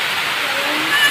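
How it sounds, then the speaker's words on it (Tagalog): Heavy rain pours steadily at a goat pen where twin doelings were just born, a dense continuous hiss that swells slightly near the end, with no clear voices. "Lumakas yung ulan"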